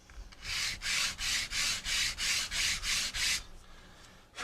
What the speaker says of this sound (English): have a sanding board like this for just cleaning up